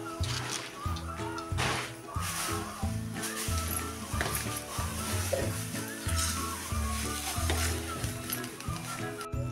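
Cluster beans are stir-fried in a pan, giving a continuous close sizzle with sloshing stirring sounds over a rhythmic musical background throughout.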